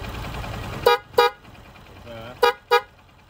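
Four short honks from a car's dual horn in two pairs, loud and close, over quiet background hum.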